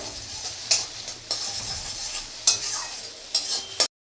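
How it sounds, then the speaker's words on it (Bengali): Eggs fry and scramble in hot oil as a spatula stirs them, producing a continuous sizzle punctuated by four or five scraping strokes against the pan before stopping abruptly. "ডিমটাকে নেড়ে চেড়ে বেশ ভালো করে ভেজে নিতে হবে ঝুরঝুরে করে"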